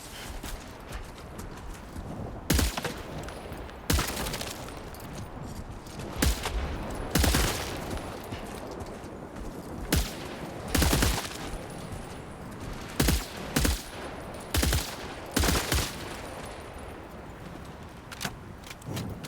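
Weapons fire during practice in Death Stranding 2 rings out as sharp, loud shots in irregular bursts, some spaced seconds apart and others in quick clusters, over a quiet ambient background.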